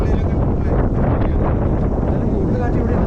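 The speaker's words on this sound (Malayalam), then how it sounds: "കൂടുതൽ കാറ്റ് ഇവിടെ" Strong wind at the Koorumala hilltop viewpoint buffets the microphone in a loud, continuous low roar that covers the whole moment.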